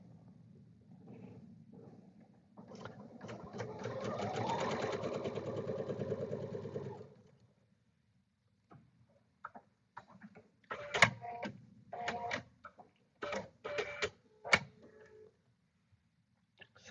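A sewing machine runs a few seconds stitching quilt block pieces, a close mechanical whir, then falls silent and gives way to short clicks, handling noises and small knocks.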